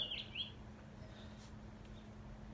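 A couple of quick, high bird chirps sound outdoors on a hot spring day at an Easter egg hunt, faint and brief near the start, then fading into a low steady hum and quiet background.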